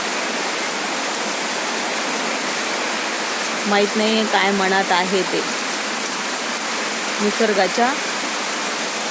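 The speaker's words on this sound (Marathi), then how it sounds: "आणि असं अचानक ढगफुटीसारखाच पाऊस गळतो." Heavy cloudburst-like rain pours down steadily over farmland in Nanded district, a dense, continuous roar of water. Someone speaks over it twice, briefly.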